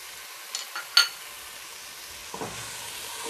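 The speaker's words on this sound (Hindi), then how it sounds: "अब इन सारी चीज़ों को मिक्स करेंगे" Chilli sauce, green chilli sauce and sugar are stirred together in a hot pan for chicken chow mein, giving a faint steady sizzle broken by a couple of spoon scrapes and clinks against the metal.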